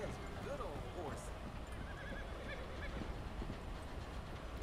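Horse neighing in a video game, a couple of clear whinnies over a rolling train-like rumble with hoof clatter, a voice talking over it.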